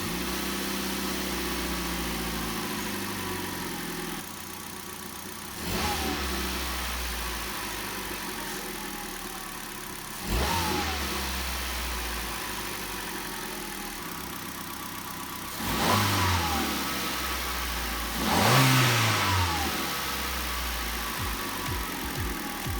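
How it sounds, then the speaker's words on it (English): A Hyundai i10 car engine idles steadily after an air filter replacement, then revs up several times in short bursts, each rise falling back to a smooth idle; close and with no talking. "I will start the car now and check the sound"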